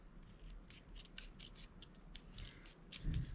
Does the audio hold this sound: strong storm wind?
no